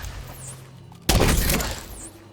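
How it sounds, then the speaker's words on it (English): Gunfire at oxidizers at Kenly College in The Division 2, a sudden loud burst of shots and impact after a quiet stretch, decaying over about a second. "we're going to start shooting the oxidizers"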